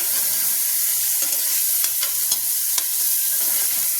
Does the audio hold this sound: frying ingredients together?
yes